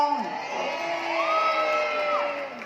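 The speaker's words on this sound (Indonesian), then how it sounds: "Ya, tepuk tangan Mbak Atun dong." A crowd cheers and whoops for Mbak Atun in a loud, continuous burst of voices rising and sliding in pitch, close and energetic throughout.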